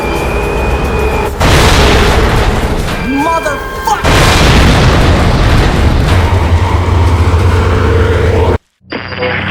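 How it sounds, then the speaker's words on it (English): An Amtrak Colonial train smashes into stationary Conrail locomotives, producing a massive, loud, sustained crashing roar with heavy booming bursts and metallic screeches. Someone shouts over the wreck before the sound cuts out abruptly near the end. "The Amtrak Colonials smashed into the stationary Conrail locomotives, causing a massive wreck."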